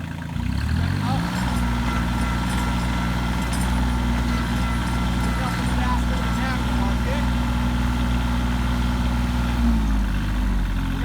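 A Kioti CK2510 HST compact tractor with loader idling, its engine giving a smooth, steady low drone that stays constant and close throughout, with no talk over it.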